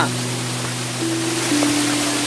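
Water pouring down a waterfall at Raikal near Warangal on a trek: a steady, even broadband rush that holds throughout, with a faint low hum underneath and no voices.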